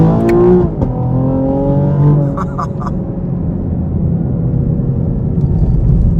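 A 2024 Chevy Camaro 1LT engine revs hard in first gear and climbs in pitch as it accelerates, loud and close, then settles into a lower rumble.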